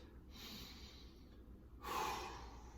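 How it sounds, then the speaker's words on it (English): Slow, deep breaths taken during a standing quad stretch, a soft airy inhale followed by a stronger exhale, close and quiet with no talking. "Take a couple nice deep breaths."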